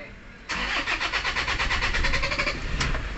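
A 2008 Toyota Innova's 2KD diesel engine cranks and catches, then runs at a loud, steady pulsing idle close by, with a brief voice over it.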